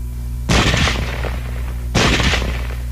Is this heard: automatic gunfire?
yes